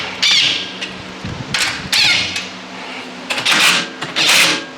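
Bolts being tightened while assembling a 6 cubic foot Ace wheelbarrow, heard as loud, close rasping and rubbing bursts of metal working against metal, coming in repeated spurts with short pauses between them and no talking.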